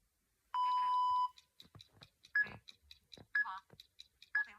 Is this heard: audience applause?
no